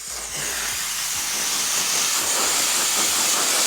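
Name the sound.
heating tool blowing on car adhesive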